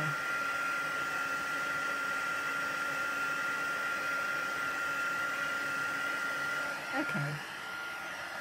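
A hair dryer runs steadily and loudly, drying ink on a craft background, a constant whooshing drone that continues throughout with a brief spoken word near the end.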